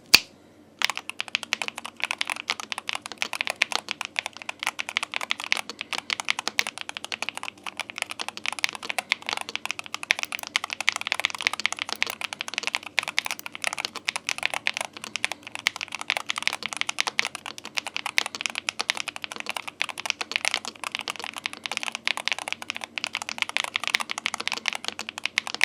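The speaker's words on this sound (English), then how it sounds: "So let's do a quick sound test." Fast, continuous typing on a NuPhy Halo65 HE mechanical keyboard with magnetic switches, crisp clacky keystrokes in a steady dense stream with no talking.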